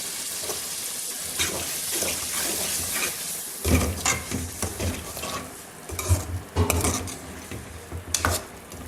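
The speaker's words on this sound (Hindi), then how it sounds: "अभी हमने इस लोबिया को इस मसाले में ज़रा भूनना है।" Boiled black-eyed peas sizzle in a hot masala in a pan and are stirred with a utensil, giving repeated scraping strokes over a steady frying hiss.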